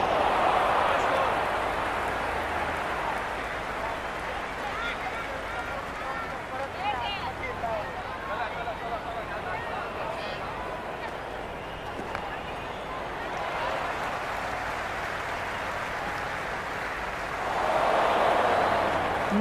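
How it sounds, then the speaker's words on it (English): Crowd noise fills a cricket ground during a T20 World Cup match between the USA and Namibia, a broad steady roar that swells at the start and end under continuous commentary. "It's pretty noisy at the ground."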